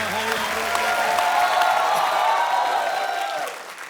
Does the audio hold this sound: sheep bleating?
no